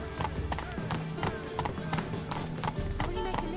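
Galloping hoofbeats of the horse Roach in The Witcher 3, a fast rhythmic clip-clop under a continuous game backdrop, with a voice speaking over it.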